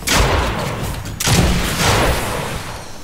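Video game gunfire in rapid bursts: a heavy volley of shots at the start, a brief gap, then another dense fusillade that trails off, loud and close with no talk over it.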